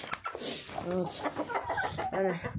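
Chickens and a rooster cluck in short bursts close by in a henhouse, with several distinct clucking calls spread across the clip.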